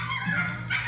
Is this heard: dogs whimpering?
yes